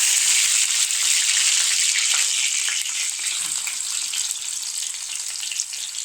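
Chopped ginger, green chilies and garlic sauteing in a hot pan for a yogurt chicken curry, a loud, bright continuous sizzle with faint stirring scrapes, steady throughout and with no voices.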